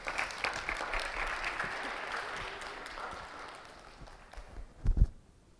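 Applause for a young player during a youth soccer practice: a few seconds of steady, fairly soft clapping from a small group, fading out, then a couple of louder thumps at the end.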